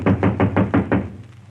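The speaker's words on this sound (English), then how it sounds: "Who's that knocking on the door, Mary?" Knocking on a door as a radio theatre sound effect: six firm, evenly spaced knocks in a quick steady rhythm, close and clear, with a short fading ring after the last one.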